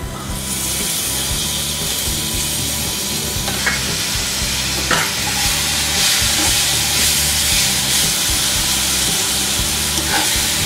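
Fried vermicelli is stirred with condensed milk in a pan: a steady hiss and sizzle runs throughout, with scraping stir strokes and light clinks at a moderate, close level and no talking.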